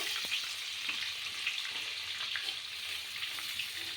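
Panch phoron and a pinch of asafoetida hit hot oil with a bright, continuous sizzle and crackle, close and steady, while a soybean curry is cooked in an Assamese kitchen.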